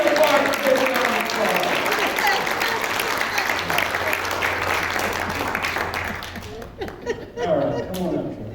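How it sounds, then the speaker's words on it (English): Church dinner audience at White Lake Presbyterian bursts into loud sustained applause for a magic show volunteer, with scattered laughter mixed in, the clapping thinning and fading toward the end. "Everybody give Mark a big round of"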